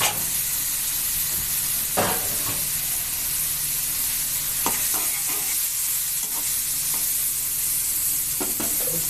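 Shrimp, vegetable stems and sweet pumpkin fry in hot oil with a loud, continuous hissing sizzle, punctuated by scattered scraping knocks of stirring close by.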